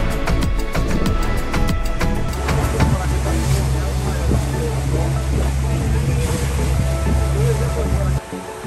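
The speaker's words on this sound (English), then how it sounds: "Check out this glass bottom boat." Constant loud wash of water and engine rumble from a glass bottom boat moving over the ocean off Cabo San Lucas, with wind noise throughout.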